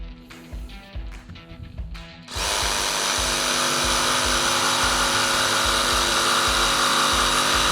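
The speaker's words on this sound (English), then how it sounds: "put pressure down on the back of the jigsaw, just enough to hold it steady" A jigsaw, held down firmly at the back, cuts a piece of wood. It starts with a few faint knocks and handling sounds, then sets off into a loud, steady, buzzing cut that runs without a break.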